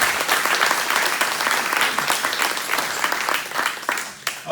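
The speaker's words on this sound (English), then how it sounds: "shall we give everyone here a big round of applause?" Audience applause at a Brunswick County Democratic Party candidate forum held at party headquarters, a steady room-filling clapping from many hands that carries evenly before thinning slightly near the end.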